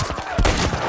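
Gunfire from The Last of Us Part I video game, a burst of several close, sharp shots over roughly a second with a brief lull in between.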